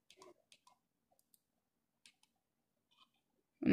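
A BlueFinger mouse gives a handful of sharp, isolated button clicks, close and fairly quiet with gaps of silence between them, then a louder thump right at the end.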